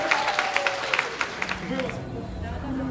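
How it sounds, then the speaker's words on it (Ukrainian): A live audience bursts into clapping and applause, rapid and dense at first with a few voices mixed in, then thinning out as talk and crowd murmur take over. "Окей, аплодисменти, друзі!"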